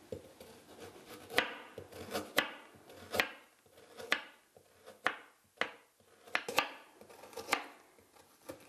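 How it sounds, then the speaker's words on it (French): A knife slices carrots into thin rounds on a cutting board, giving a close, regular series of crisp chops about one per second, with no talking. "Nous allons les trancher, les découper en tranches assez minces pour en faciliter la cuisson"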